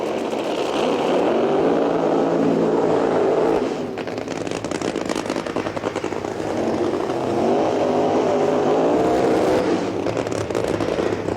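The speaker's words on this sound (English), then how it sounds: "As the two cars come out of the water and do their burnouts" Nitro-burning funny cars doing burnouts at a 1982 NHRA drag race, a loud sustained engine roar that dips briefly, then swells again, heard at close range without talk.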